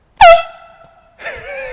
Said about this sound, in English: we're going to pull one or two air horn pranks when we make our way up here